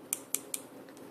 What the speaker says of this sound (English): you just lightly tap on with the brush, and if it doesn't make a noise, like when it's dry, it kind of sounds like this